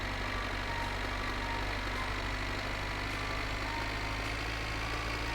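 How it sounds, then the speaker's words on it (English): Tractor engine idling in the video game My Winter Car, a steady low, even rumble that runs loud and unbroken throughout, with no talking over it. "Apologies if the tractor noise is loud."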